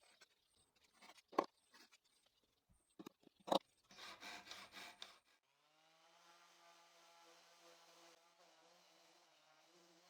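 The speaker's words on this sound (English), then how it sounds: "I wipe off the excess glue and trim it flush using a handsaw" Handsaw trimming a glued wooden dowel flush with a woodworking piece: a few sharp knocks, then a brief burst of rhythmic rasping saw strokes, followed by a steady low hum.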